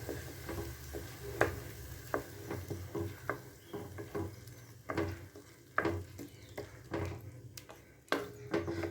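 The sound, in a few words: raw mango paste frying in oil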